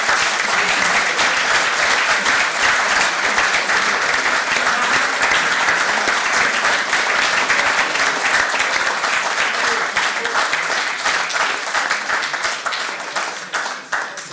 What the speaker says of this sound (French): je souhaiterais qu'on fasse un tonnerre d'applaudissements à ce jeune lauréat